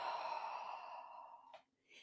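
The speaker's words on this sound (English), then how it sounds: "And breathing out." A long, deep breath flows out steadily during slow yoga breathing. It is close and soft, then fades near the end before a short new breath starts. It is heard alone, without talking.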